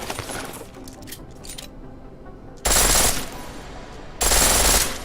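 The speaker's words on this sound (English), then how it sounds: "The pistol in full auto will take down targets fast, but it'll burn through your ammo" Pistol set to full auto in Deus Ex: Mankind Divided, two loud sustained bursts of rapid fire separated by a pause, alone after a quieter stretch.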